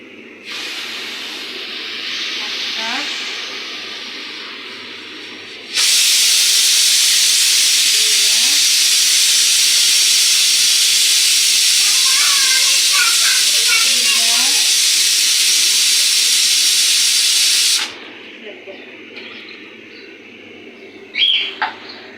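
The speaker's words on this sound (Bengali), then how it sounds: "এখন আমি পোলাওতে পানিটা দিয়ে দিব," Water poured into frying pilau bursts into a loud, steady hiss lasting about twelve seconds and then cuts off sharply, with soft bird chirps and household sounds before and after.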